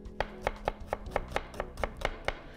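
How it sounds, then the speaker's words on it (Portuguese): A knife thinly slices an onion on a cutting board: about ten quick, crisp, evenly spaced cuts, close and clear with nothing else behind them. "E aí você corta ela bem fininha, dessa forma, que não vai ter nenhum problema."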